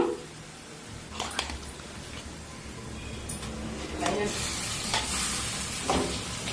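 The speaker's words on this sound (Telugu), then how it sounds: "ఇదిగోనండి ఇలాగా వేపేస్తున్నాను అంటే సగం వేగిపోయిందండి" Onions frying in a pan for a chicken curry give a continuous sizzle, with a spoon scraping and stirring through it now and then, while a voice talks over the cooking.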